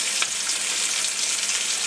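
Flour hits a sizzling chicken and corn chowder base, a steady close hiss of frying with a faint stirring scrape, no talking.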